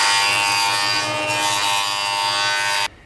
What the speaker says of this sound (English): Now that I have that first face nice and flat by running it over the joiner